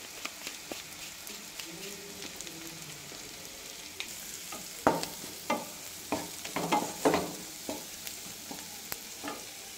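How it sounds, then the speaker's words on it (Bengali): Spice masala of turmeric, chilli and coriander powders fries in a pan for paneer bhurji, giving a steady soft sizzle broken by a run of sharp spatula scrapes and stirring knocks that grow busier toward the end, with no talking. "এবার আমার মশলাগুলো ঠিকঠাক কষা হয়ে গেছে।"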